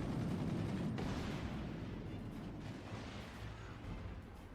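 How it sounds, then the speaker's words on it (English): Howitzer artillery fire in a naval combat video game rolls as a steady, loud barrage of overlapping blasts and rumble that gradually eases, with no talking. "Howitzers fly."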